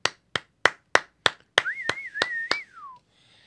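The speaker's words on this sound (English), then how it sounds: "she deserves a round of applause" On a talk show, a run of about eight sharp, evenly spaced claps rings out close by, and a wavering whistle joins partway through before everything stops.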